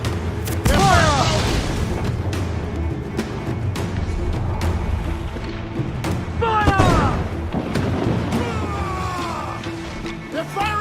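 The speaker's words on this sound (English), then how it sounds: "They're firing mortars!" Ship cannons and mortars fire in Assassin's Creed IV Black Flag as heavy booms and thuds strike repeatedly over a rumbling sea-battle din, with shouting crew voices over them.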